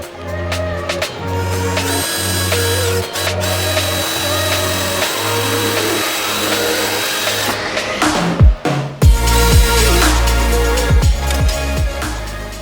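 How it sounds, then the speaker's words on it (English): A power drill runs close and loud with a pulsing motor hum, bogging and revving as it bites into a Nissan 370Z during an oil cooler install, then briefly stops and spins back up. "So we're going to drill that spot and we'll go."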